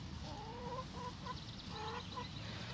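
Backyard chickens cluck in short repeated bursts nearby over a steady outdoor background, with no one talking.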